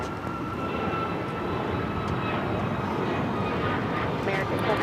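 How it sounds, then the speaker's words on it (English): Boeing 787-9 Dreamliner jet airliner arriving at LAX, a steady broad engine roar that holds loud and even for the whole stretch, with no voices over it. "This is All Nippon Airways Flight 6 coming in from Tokyo Narita on the 787-9 Dreamliner."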